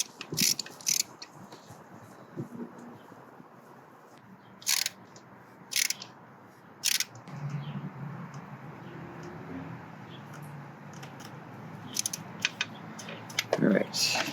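Bursts of ratchet clicking, loud and nearby, as a bolt is threaded in on a 1994 Suzuki Katana motorcycle, broken up by quieter handling noises and low background rumble.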